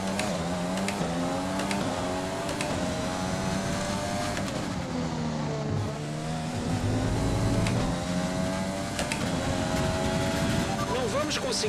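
F1 race car engine revving in the F1 2020 video game at the Chinese Grand Prix, a sustained high-pitched whine with rising and falling pitch sweeps, loud and continuous, with other cars faintly mixed in.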